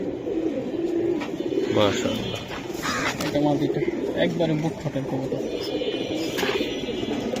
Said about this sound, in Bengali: এটা ভাই একবারে গুড়ি স্টার সিলভার বাঘা কবুতর